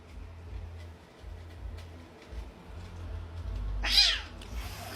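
A cat meows once, a close, loud, rising-and-falling cry near the end, over a low rumbling indoor background with no talking.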